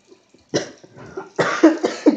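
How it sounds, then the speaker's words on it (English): A person coughing indoors: a few harsh, close coughs in quick succession, with a faint throat sound before them. "My cough."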